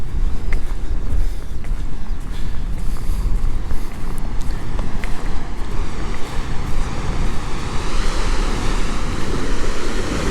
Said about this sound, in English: You can hear the sea.